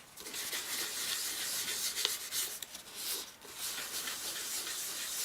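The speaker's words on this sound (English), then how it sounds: "Then you take a dry kitchen towel and then wipe off the excess." Dry kitchen towel wiping excess ink or paint off a surface for sponged bird artwork: soft, close rubbing and scuffing strokes in an uneven rhythm, fairly quiet and continuous.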